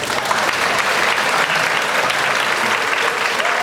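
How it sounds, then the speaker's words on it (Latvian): Sustained, dense audience applause at a dance studio concert, steady and loud throughout without a break. "Aplausi!"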